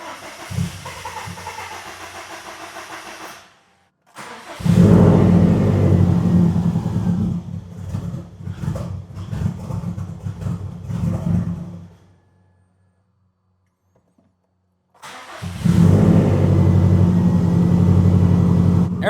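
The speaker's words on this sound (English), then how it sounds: "Now before you go and start the car, clutch in, gas all the way to the floor," A Subaru WRX STI engine cranks and fires up, revving loudly in two separate bursts separated by quiet gaps, with hissy mechanical noise and no talking.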